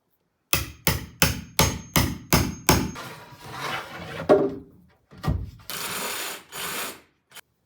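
Chisel work on a log cabin timber: seven evenly spaced, hard hammer blows ring out in a row, then a few scattered knocks and a longer scraping rasp, close and loud.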